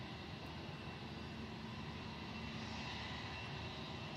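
A Titan Airways aircraft at Manchester Airport gives off a steady, distant engine roar that holds level throughout, with no talk over it.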